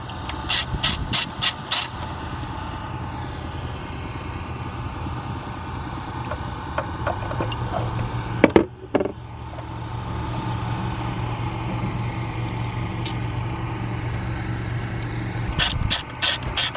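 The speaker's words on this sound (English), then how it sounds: "Now we're going to go ahead and take off those 4 bolts." A ratchet wrench clicks rapidly in short bursts while bolts are removed during a spark plug change on a vehicle, with a steady mechanical hum between the bursts and a sharp clank midway.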